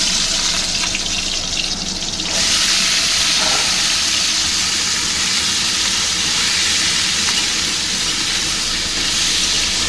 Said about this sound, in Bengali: এই যে আলু পোস্তর আলুটা ভাজা হচ্ছে